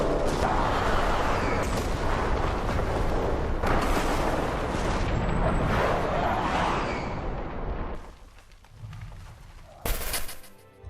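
A massive, roaring blast rumbles on for several seconds with crackling debris, fading into a lower rumble before a short sharp burst near the end.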